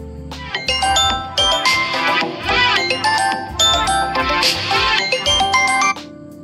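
A smartphone set to silent mode rings anyway after a remote play-sound command, its loud melodic ringtone chiming in repeating bursts for around five seconds, alone with no talking.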